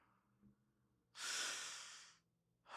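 One deep, close breath is drawn on instruction, a loud airy inhale of more than a second after a faint earlier sniff, with the next breath just beginning at the end and no talking.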